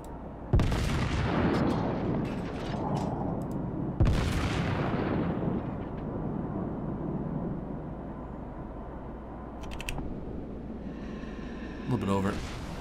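Heavy battleship main guns firing in the naval game World of Warships aboard the American Tier 6 New Mexico, two loud booming salvos a few seconds apart with rumbling tails, a voice talking over the gunfire.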